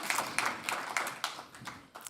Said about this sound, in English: Applause for Valeria.